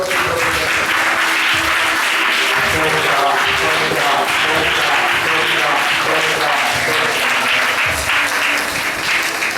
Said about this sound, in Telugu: భీకరగా చప్పట్లు